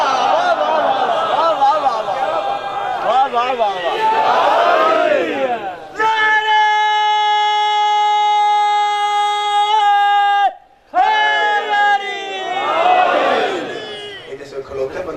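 A crowd chants slogans at a religious Milad celebration in Shorkot City, a loud sustained massed chant with a brief break, framed by excited speech from a speaker before and after.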